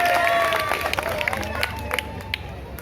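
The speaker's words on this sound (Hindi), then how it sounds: "एक बार जोरदार तालियों से आप इनका स्वागत" A crowd at a political rally for a ward candidate claps and cheers in welcome, with a steady spread of applause and scattered shouts amid crowd noise and brief tonal sounds.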